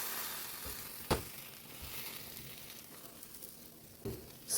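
A paneer tikka taco lies cheese side down in a pan over low heat, sizzling softly and steadily with a few small pops and clicks along the way.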